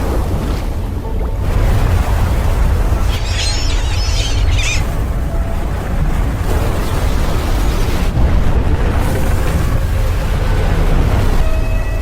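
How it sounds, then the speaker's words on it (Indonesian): A 10-metre tsunami wave in a film about a Japanese disaster near a nuclear plant, heard as a continuous heavy roar of rushing water with a dense low rumble and brief higher splashes. "tiba-tiba muncul tsunami setinggi 10 meter"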